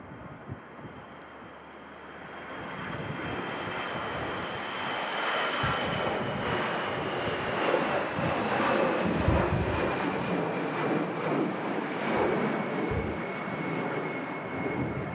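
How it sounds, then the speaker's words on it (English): An airliner's engines roar through its departure roll at Manchester Airport in strong winds, a steady, fairly distant thrust that swells gradually louder, with gusty wind buffeting underneath and no talk. "Louder on the departure roll"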